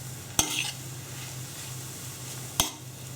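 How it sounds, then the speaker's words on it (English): Paprika cooking gently over low heat in a pan while being stirred, a faint low sizzle with two sharp utensil knocks against the pan, about two seconds apart. "So I'm stirring it round."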